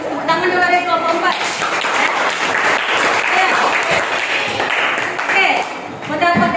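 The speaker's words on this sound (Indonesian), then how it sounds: "terus tepuk tangan dulu dari kelompok 4" A classroom group claps for the fourth group's presentation, with dense, fairly loud applause lasting several seconds that starts and ends around a teacher's voice.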